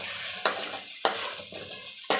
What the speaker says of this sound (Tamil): நல்லா கோல்டன் ப்ரௌன் கலர் வர மாதிரி நல்லா வதக்கி எடுத்துக்குங்க